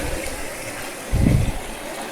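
Water flows through a toolbox sluice box used for sorting gravel, a continuous close wash of water with a brief heavier gush in the middle.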